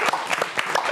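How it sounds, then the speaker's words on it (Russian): Audience applause for a saxophonist at a Thursday evening music event in Gomel, a dense, steady patter of many hands clapping close by for about a second. "Аплодисменты нашему саксофонисту."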